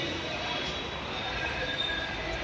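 Steady broadband rumble and hiss of a train at a station platform, with faint high metallic squeals on top; continuous and moderately loud, no speech.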